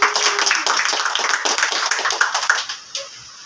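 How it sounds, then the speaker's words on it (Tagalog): A church congregation clapping together for a Sunday service, dense, loud and close, continuous for about three seconds before tapering off. "Malakas na palakpak po para kay Lord"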